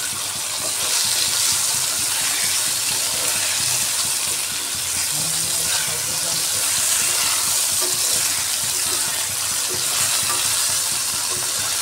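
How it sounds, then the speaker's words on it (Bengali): Okra (bhindi) fries lightly in a pan over full heat, giving a loud, continuous sizzle with the rustle of stirring throughout and no speech. "গ্যাসের হিটটা ফুল রেখে আমি হালকা ফ্রাই করে নিচ্ছি"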